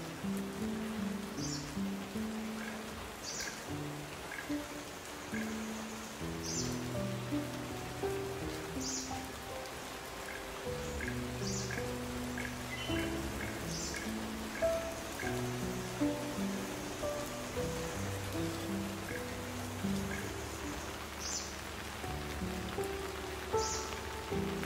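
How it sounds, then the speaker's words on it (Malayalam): Gentle, steady rain falls through a forest on a nature walk in Periyar Tiger Reserve, Thekkadi, a soft continuous patter with scattered drips and faint bird calls, no talking. "കുറച്ച് നടന്നപ്പോഴത്തേക്കും മഴ പെയ്യാൻ തുടങ്ങി. ശക്തമായിട്ടുള്ള മഴയൊന്നുമല്ല, പക്ഷെ നല്ല രസമായിട്ടുള്ള മഴ."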